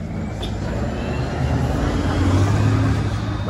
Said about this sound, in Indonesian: Wah, ada bis.